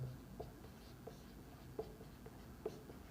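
Pen writing out a maths answer by hand on paper, faint close scratching with a few light taps at the ends of strokes, quiet and on its own.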